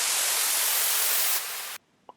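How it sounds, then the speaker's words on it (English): Synthesized white noise from an operator noise wave, smeared with chorus and reverb, hisses loud and broad, drops in level partway, then cuts off abruptly into near silence with a faint blip at the end. "Use the operator noise wave to create this, with some chorus and some reverb,"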